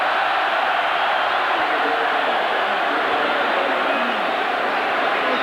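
A 1994 Colorado Buffaloes college football stadium crowd roars in a steady, distant wash of massed voices that holds evenly throughout.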